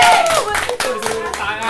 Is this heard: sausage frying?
no